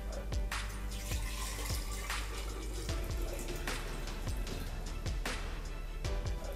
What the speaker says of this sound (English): Jar with ginger, pour in the gin.